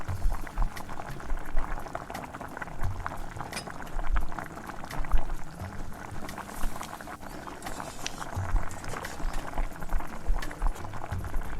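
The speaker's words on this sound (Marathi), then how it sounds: "आता याला मस्त अशी उकळी येऊ देऊयात" Jackfruit-seed curry bubbling and plopping steadily in a pot on a wood-fired stove, a close, continuous simmer with irregular pops and no voices.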